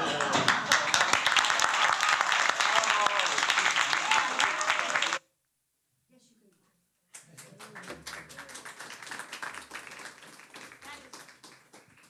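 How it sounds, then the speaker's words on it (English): At a tribute concert, a large audience breaks into dense, loud applause that suddenly cuts to silence, then resumes more softly after a two-second gap, with scattered individual claps audible in the second stretch. "That is well worth clapping for."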